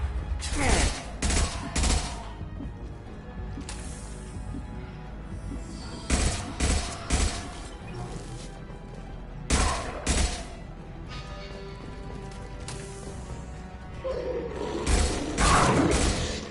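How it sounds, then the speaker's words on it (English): Firefight in the video game Mass Effect 2, with repeated bursts of gunfire and sharp shots over a steady mechanical game background, loud and continuous throughout. "Taking heavy fire."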